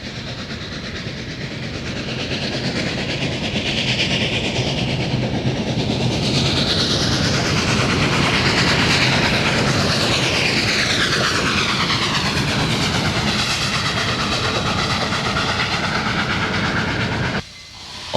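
Union Pacific 844 steam locomotive hauls support cars and a short freight train out of North Platte, a loud continuous rolling roar building and holding steady with rail clatter, then cutting off abruptly at the end.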